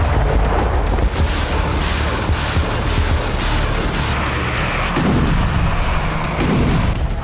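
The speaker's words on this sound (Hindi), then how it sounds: "उत्तर पूर्वी यूक्रेन में आसमान से अचानक ऐसे ही बॉम्बलेट्स की बरसात हुई और एक साथ कई धमाके" A barrage of cluster bomblet explosions over a village area in northeastern Ukraine near Kharkiv, a loud, continuous rumbling roar of many overlapping blasts that never lets up.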